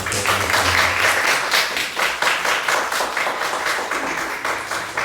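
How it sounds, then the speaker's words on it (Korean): A church congregation applauds during a Sunday worship service with an elder installation, dense steady clapping filling the room for about five seconds, with a low hum underneath early on. "우리 박수로 함께"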